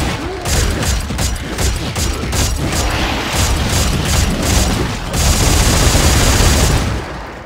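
The ripcore weapon in the sci-fi shooter Dead Space 3 firing a steady stream of loud, dense crackling bursts with rhythmic mechanical pulses, close and unbroken for several seconds.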